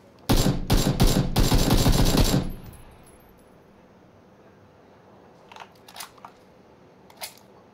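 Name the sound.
gunfire in PUBG video game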